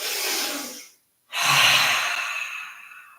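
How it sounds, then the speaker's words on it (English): A cleansing breath during a yoga session before chanting Om: a long breath, a short pause, then a loud, close, sighing exhale. "A cleansing breath first"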